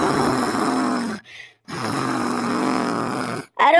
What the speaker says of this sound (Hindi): ये तो खर्राटे निकाल रहे खर्राटे